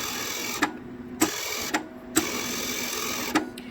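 A MIG welder's wire feed spool turning, heard as a steady mechanical whir close by, punctuated by five sharp clicks or clacks at irregular intervals.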